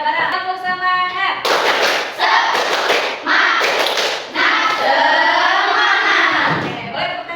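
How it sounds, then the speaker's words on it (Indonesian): A classroom of schoolchildren performs the tepuk semangat clapping chant, a group voice opening before bursts of rhythmic clapping and thumps alternating with shouted chanting, loud and close. "Masih ingat dengan tepuk semangat? Ya, ayo bareng. Tepuk semangat."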